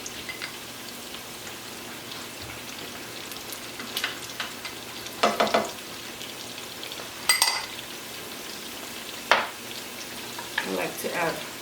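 Capers and olives hit hot oil in two pots, and a steady low sizzle runs throughout, broken by several louder crackling bursts as more ingredients are added and stirred.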